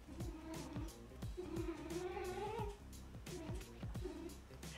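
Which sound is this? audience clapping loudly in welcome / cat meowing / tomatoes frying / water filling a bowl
cat meowing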